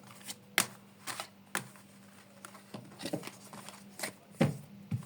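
Tarot cards being shuffled close by, a soft run of irregular riffling flicks and taps over a quiet hum, with no voices.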